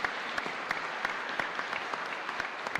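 Applause for the priest at a Mass in a chapel, a moderate crowd clapping steadily with a few sharper individual claps popping out above the even patter.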